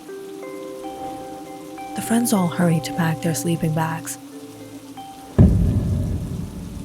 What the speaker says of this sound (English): the rain suddenly started to pour